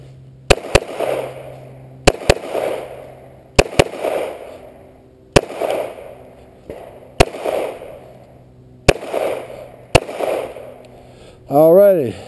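Double taps from a Ruger SR45 .45 pistol: about seven loud, sharp reports, most of them in quick pairs, spaced roughly every one and a half seconds, each followed by a short echoing tail.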